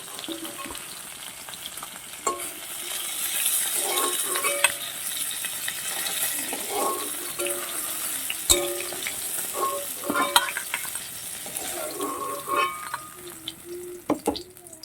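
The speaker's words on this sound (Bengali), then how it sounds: "বন্ধুরা মাছগুলো ভাজা হয়ে গেছে এবার এগুলোকে তুলে নিচ্ছি" Fried fish is lifted out of sizzling oil, with a continuous crackling sizzle and intermittent sharp clinks and scrapes of a utensil against the pan, close and fairly loud.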